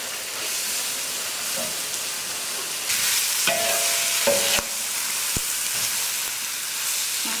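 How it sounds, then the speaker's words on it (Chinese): Bamboo shoots stir-fried with chopped chili in hot oil, a continuous close sizzle with louder bursts as the food is tossed and occasional clinks of a utensil against the wok. "现在可以下笋子了。"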